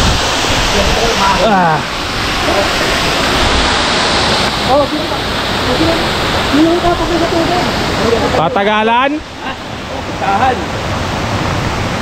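A river rushes loudly past a riverside picnic spot near falls in Paluan, Mindoro, in a constant roar of flowing water, with brief voices and a few chirps above it.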